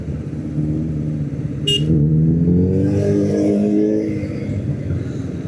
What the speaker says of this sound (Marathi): आणि सुपर बाईक मागून हायाबुसा